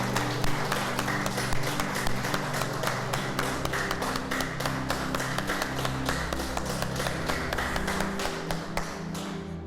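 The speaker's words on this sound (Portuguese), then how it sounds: "Vamos aplaudir o Senhor." A church congregation claps together in a fast, steady rhythm of sharp, even beats, loud and close, with no talk over it.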